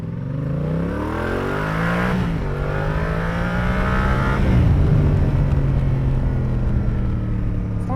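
A 2017 Yamaha Tracer 700 motorcycle in A2-restricted trim revs up through the gears, its engine note rising and falling in sweeping pitch climbs, loud and close for the whole stretch.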